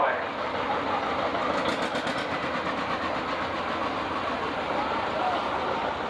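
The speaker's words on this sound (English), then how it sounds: "This is a John Deere 830 diesel." A 1959 John Deere 830 diesel tractor runs in a steam show parade, a dense steady engine rumble with loud crowd and outdoor noise and a voice talking over it.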